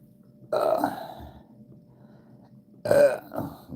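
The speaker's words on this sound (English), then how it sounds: "Can't even get a good belch out." A person recovering from emergency surgery for an infection makes an attempted belch, two short throaty bursts separated by a pause of near silence, close and fairly loud.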